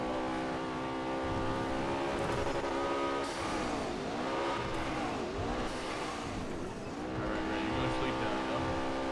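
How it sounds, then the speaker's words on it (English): A new car driven in GTA roleplay on NoPixel 4.0: a steady engine drone rises and falls through repeated revs and gear shifts, close and continuous, with people talking over it. "I'm driving in my new car."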